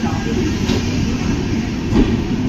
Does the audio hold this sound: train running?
yes